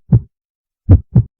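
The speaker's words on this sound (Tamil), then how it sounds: "உங்க இதயம் துடிக்கிற சத்தம் உங்களுக்கே கேக்குது." A heartbeat sound effect thumps loud and close, one beat followed after a pause by a quick double beat, with silence between.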